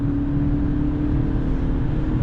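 A 2006 Mercedes C180 Kompressor accelerates hard after a kickdown at high autobahn speed, its engine droning steadily and loudly inside the cabin with a constant low hum and road roar, no voices.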